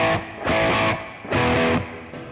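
Guitar played through a Cornford Hellcat amp's overdrive channel at reduced gain: two distorted chords ring out in turn, each held about half a second before decaying, with a short pick noise at the end.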